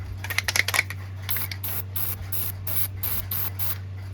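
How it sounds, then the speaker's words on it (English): An aerosol can of dry lube sprays into a key phone's key strip in a rapid series of short hissing bursts, close and steady, following a few clicks and rattles at the start. "So I'm going to spray a little bit in here"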